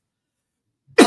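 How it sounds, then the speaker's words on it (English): A single short cough bursts out at the very end, loud and close, after near silence. "I'm coughing"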